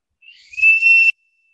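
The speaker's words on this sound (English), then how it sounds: "So another traditional toy is this whistle made up of" A traditional bamboo whistle toy blown once, giving a short, bright, high-pitched tone that starts softly, swells louder and stops abruptly, followed by silence.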